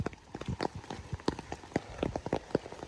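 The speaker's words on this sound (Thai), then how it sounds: "เพราะว่าฝนตกนี่แหละบ่แม่นอื่น" Rain falls in large, close drops that patter irregularly on a hard surface over a few seconds, each impact distinct, with no voices.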